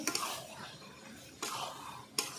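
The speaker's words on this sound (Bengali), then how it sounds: "ভালো করে কষিয়ে নেব মাংসটা" Chicken curry meat with potatoes and yogurt is sautéed and stirred in a pot, giving soft scraping and shuffling with a few sharper clatters, close and fairly quiet.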